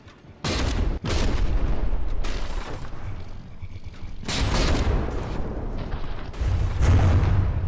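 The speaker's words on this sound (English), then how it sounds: "Oh, the gun shield just took a hit, big chunk blown out of it." Naval gunfire and explosions in the warship combat game From The Depths: heavy booming blasts and rumbling impacts in several loud bursts, overlapping and echoing.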